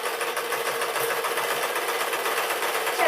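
A sewing machine stitching a pink dress, running in a fast continuous mechanical chatter close by, with no talking.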